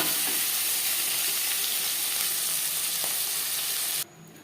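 Hilsa fish head frying in hot oil makes a loud, dense, even crackling sizzle heard close up, which drops away abruptly near the end; no voices.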